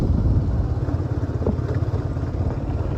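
A motorcycle rides slowly along a muddy mountain road cut through forest, its engine putting out a steady low rumble close by, with faint clatter over the bumps.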